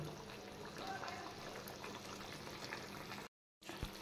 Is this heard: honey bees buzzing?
no